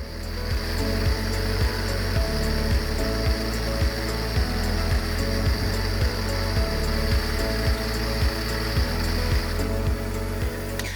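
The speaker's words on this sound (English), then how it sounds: "I can hear the pitch of the pressure washer has changed." A pressure washer pump runs steadily while feeding an Autoglym Polar Blaster or MJJC snow foam cannon with a 1.1mm nozzle, a loud continuous drone with rhythmic pulsing knocks throughout and no talking.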